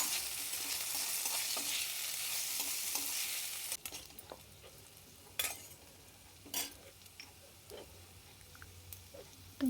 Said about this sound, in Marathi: आता आपली भिजवलेली डाळ डाळ टाकल्याच्यानंतर छान परतून घ्यायचं